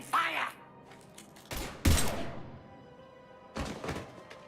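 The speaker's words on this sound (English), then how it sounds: "Now open fire!" Gunfire and heavy impacts in the video game Mass Effect: a few loud separated bursts and thuds with quieter gaps between them, alongside some game voice.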